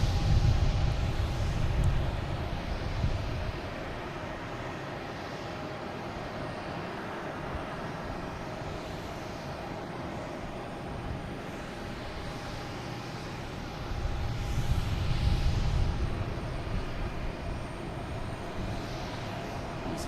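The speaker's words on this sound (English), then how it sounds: "next coming in is United Airlines coming in from Chicago. A A321neo," A United Airlines Airbus A321neo jet arrives at an airport, a broad engine rumble with a thin steady whine, swelling near the start and again around the middle before easing.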